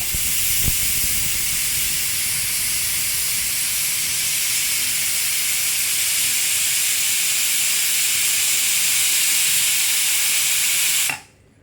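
Loud, steady hiss of steam jetting from a pressure cooker whistle while cooking chicken kurma, continuous and close, cutting off abruptly at the end.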